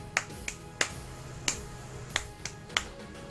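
Seven sharp, light snaps or claps at irregular intervals, close by and moderately loud over a faint background hum, made as an audio sync test.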